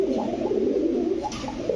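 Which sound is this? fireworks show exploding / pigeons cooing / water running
pigeons cooing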